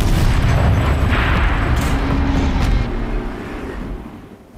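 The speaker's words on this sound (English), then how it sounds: "Rotate turret! And fire!" A heavy turret fires in Horizon Zero Dawn, a loud, deep booming blast with a broad roaring rumble that slowly decays over several seconds.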